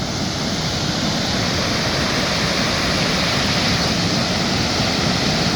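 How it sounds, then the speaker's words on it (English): River water rushing over rocks, a loud, constant broadband roar close by that holds steady throughout with no voices. "I could sit here all day and listen to that rushing water though."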